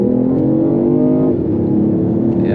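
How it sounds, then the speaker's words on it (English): A BMW i8 hybrid accelerating hard through a 0 to 60 run, a loud steady engine and motor drone heard from inside the car, pitch rising then dipping briefly at a gear change. "All right, let's do a 0 to 60 run."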